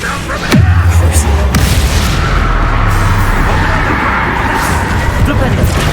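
A sharp, loud blast from a Confringo fire spell bursts out in Hogwarts Legacy, followed by a sustained roaring rumble that lingers close and heavy for several seconds.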